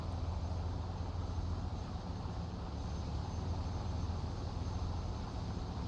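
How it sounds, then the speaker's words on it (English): Steady droning aircraft engine in the War Thunder combat flight game, a constant low propeller rumble with no breaks or voices, holding level throughout. "Enemy plane"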